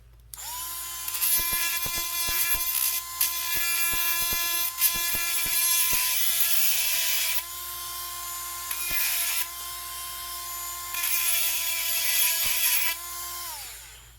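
A Tacklife 4V cordless rotary tool runs on its high setting, grinding in a steady high-pitched whine that dips briefly in pitch a few times as the bit bears on the work, then winds down near the end.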